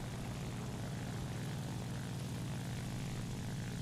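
Propeller aircraft engines in War Thunder, including an F4U Corsair, drone as a steady, continuous hum, moderately loud and unbroken, with no talk over it.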